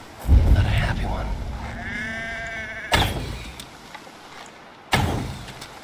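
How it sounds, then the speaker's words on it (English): A distressed sheep in the video game Assassin's Creed Valhalla lets out one drawn-out, wavering bleat, framed by heavy in-game thuds before and after, and a low voice rumbling near the start. "That sounds like a sheep. Not a happy one."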